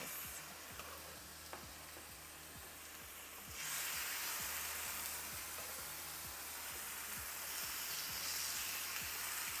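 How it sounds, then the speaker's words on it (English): Marinated skirt steak pieces searing in a hot pan give a steady, close sizzle that swells louder partway through and holds as a dense, crackling hiss with no talking. "Now for the best part, to hear the sizzle."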